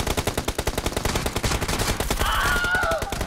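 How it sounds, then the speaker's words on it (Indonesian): Rapid automatic gunfire in PUBG Mobile, a loud, close burst of regularly spaced shots running continuously for a few seconds, with a faint voice-like sound briefly underneath. "Tembak nih kawan."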